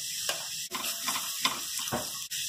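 Pav bhaji masala hits hot oil with cumin in a pressure cooker and sets off a loud, continuous close-up sizzle, broken by a few scraping stirs.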